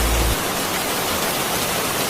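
Steady cartoon rain falls as an even, dense hiss throughout, loud and continuous with no voices over it.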